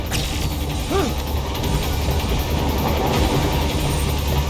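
Train rolling along in the action game Metal Gear Rising: Revengeance, a loud continuous rumble with rattling mechanical clatter and a brief rising whine, steady throughout with no talk.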